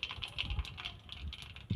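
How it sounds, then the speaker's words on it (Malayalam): Mustard seeds splutter in hot oil for a brief moment, a quick run of sharp crackling pops close by in an irregular patter. "കടുക് പൊട്ടി, കടുക് പൊട്ടി,"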